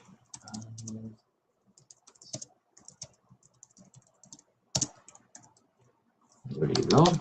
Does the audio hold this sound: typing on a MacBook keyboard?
yes